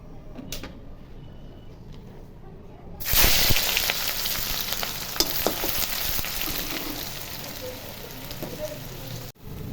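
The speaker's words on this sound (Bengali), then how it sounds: "তেল গরম হয়ে গেছে, এখন পেঁয়াজ কুচি দিব।" Chopped onions drop into hot mustard oil in a pan, bursting into a loud, close sizzle after a quieter start, with steady crackling and occasional stirring clinks.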